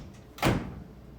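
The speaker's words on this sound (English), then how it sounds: "Put it in there first, and then close the door." A microwave oven door shuts with a single short, solid thump, close by, followed by a brief low rattle fading into a quiet kitchen with no voices.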